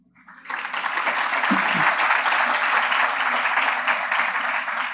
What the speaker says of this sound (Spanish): Recibamos con un fuerte aplauso a la doctora Lourdes Casanova